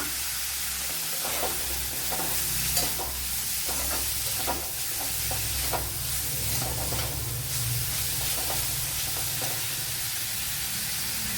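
Onions sautéing in a pan for roasted-coconut chickpea curry, a continuous close sizzle with repeated scraping stirs of a spoon through the whole stretch.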